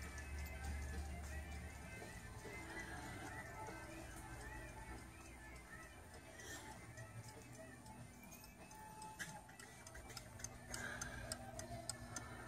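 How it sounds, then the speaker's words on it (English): Many cuckoo clocks tick together in a Christmas shop at Valley View Farms, a steady faint overlapping ticking under a continuous store hum and background chatter. "All the cuckoo clocks."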